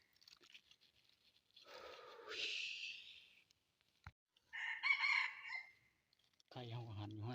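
A rooster crows twice at moderate distance, each call a drawn-out strained cry separated by a short pause, followed by a person talking briefly at the end.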